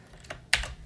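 Keys on a computer keyboard are tapped while a command is entered, a few close crisp clicks with one louder keystroke, alone and near.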